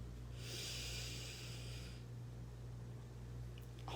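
A single deep inhalation during a relaxation breathing exercise, a soft airy breath drawn in over about a second and a half, quiet and close, over a low steady hum.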